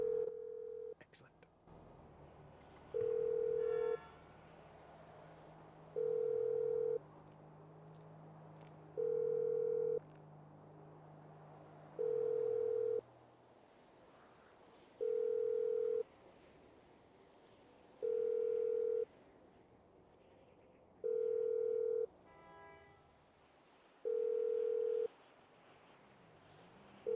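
Unanswered phone call inside a roleplay video game: a steady ringback tone repeating nine times at even intervals, loud and clear over a faint low hum, with quiet whispered speech in places.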